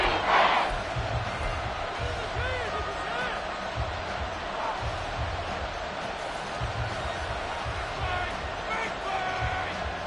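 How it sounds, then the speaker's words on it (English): A football stadium crowd roars steadily during a Bears vs Commanders game ahead of a big third down, a broad, sustained wash of cheering with a commentator talking over it. "the crowd getting into it as we come up on a big 3rd down"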